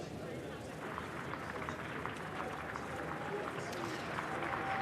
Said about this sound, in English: Cheers and applause then as he arrived here in Downing Street this afternoon.